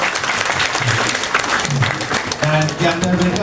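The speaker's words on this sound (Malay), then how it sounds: "Satu tepukan untuk mereka." An audience applauds team members at a closing event, a dense and loud wash of clapping that holds steady throughout, with voices and a few musical tones mixed underneath.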